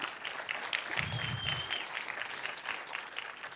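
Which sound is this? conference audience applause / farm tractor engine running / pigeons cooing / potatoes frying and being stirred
conference audience applause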